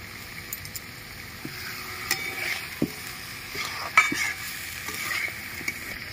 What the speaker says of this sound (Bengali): ভেজে রাখা পটল আর আলু আমি দিয়ে দিচ্ছি